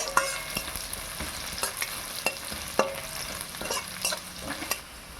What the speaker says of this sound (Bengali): তারপর দেবো কাঁচা লঙ্কা কুচি, দিয়ে এটা ভালো করে নাড়িয়ে নেবো